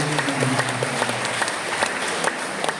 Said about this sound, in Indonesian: Maka tepuk tangan untuk ibu-ibu.